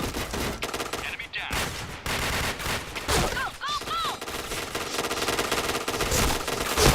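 Rapid automatic gunfire from the online shooter Point Blank, dense and nearly continuous with brief pauses between bursts, mixed with electronic game effects.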